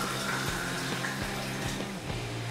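Blended spinach soup mixture being poured from a mixer jar back into a kadhai, a steady liquid pour with soft splashing and a few low thumps throughout.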